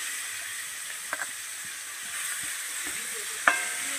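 Onions hiss in hot oil tempered with cardamom, garam masala and bay leaf, a steady close sizzle with a few soft clicks and one sharp metallic clink near the end.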